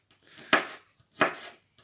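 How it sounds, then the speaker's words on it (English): Two crisp knife chops on a cutting board as garlic is cut into small pieces, about a second apart, close and fairly loud with a soft tap after each. "cut the garlic on small pieces, not too big."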